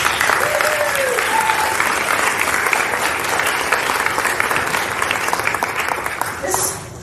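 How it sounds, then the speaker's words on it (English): An audience at an awards celebration claps in loud, sustained applause that fills the room and carries on for several seconds before easing at the end. "So just a big round of applause to you"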